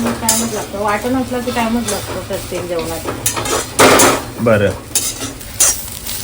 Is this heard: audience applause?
no